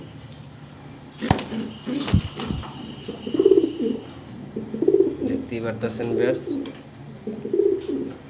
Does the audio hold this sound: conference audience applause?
no